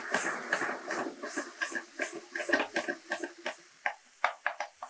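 Tomato and okra sauté in a pan with a soft, continuous sizzle and hiss, broken into uneven crackling bursts as the vegetables are stirred and mashed nearby.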